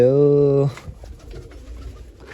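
A pigeon in a coop gives one loud, close coo lasting under a second, followed by faint rustling and low background murmur.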